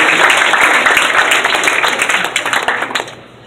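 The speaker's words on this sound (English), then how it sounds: "Give them a big round of applause" Audience applause at a live stage hypnosis show, dense steady clapping filling the room before tapering off near the end.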